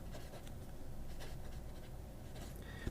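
A fountain pen with a fine nib scratches softly across toothy Scribo paper, a faint, continuous papery rasp with small irregular strokes and no talking.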